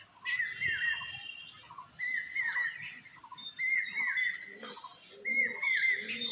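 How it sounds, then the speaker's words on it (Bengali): Young Andhra pigeons coo in short, repeated bursts at fairly regular intervals, close by and clear, with faint background noise between calls. "পায়রাগুনা সবকটাই আন্ধ্রা পায়রার বাচ্চা আছে"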